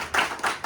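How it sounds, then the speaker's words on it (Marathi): Hands clap at a birthday celebration held by a village friends' circle and youth group, with three quick, close bursts of clapping in a short rhythmic run. "टाळ्या"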